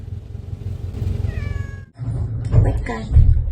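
A ginger cat left out in the snow meows loudly nearby, giving a couple of drawn-out, rising cries after a low rumbling background.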